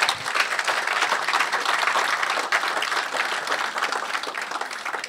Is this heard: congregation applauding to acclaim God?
yes